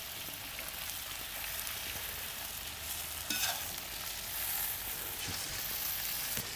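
Meat for Fergana-style Uzbek plov fries in oil in a kazan, giving a continuous, fairly quiet crackling sizzle with occasional scrape and stir sounds from a skimmer, no voices.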